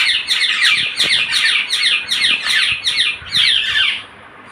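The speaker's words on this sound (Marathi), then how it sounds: "असे हे पोपट आहेत, हे रोज सकाळी सकाळी येतात" Parrots call in the morning, a loud, close series of harsh repeated squawks and chirps in quick rhythmic bursts that fade out at the end.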